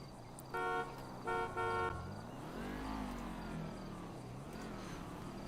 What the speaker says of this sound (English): stop honking at me, pal